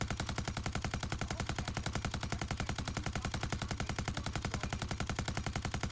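Rapid, steady automatic fire from a suppressed rifle in the Rainbow Six Siege video game, a continuous run of evenly spaced muffled shots at a high fire rate, loud and close with no talk.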